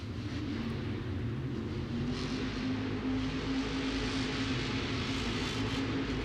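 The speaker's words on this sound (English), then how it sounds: "Listen to that motor zing." A monster truck engine revving at a 2022 Monster Jam event in Miami's LoanDepot Park, a continuous loud rumbling drone whose pitch climbs slightly midway and then holds, heard from a distance in the stadium with no talk.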